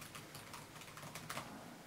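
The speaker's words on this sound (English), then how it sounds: "mash the keyboard, nothing happens" Rapid keys mashed on a computer keyboard at a Windows 10 login screen, a dense run of close, crisp plastic clicks and clacks with no talk.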